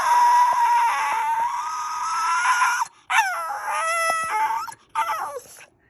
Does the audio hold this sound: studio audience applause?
no